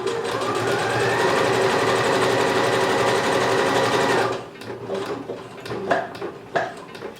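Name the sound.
sewing machine stitching elastic onto swimsuit fabric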